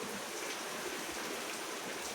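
Heavy rain falls at night, heard from indoors in a house as a steady, dense hiss that continues unbroken throughout, with no voices.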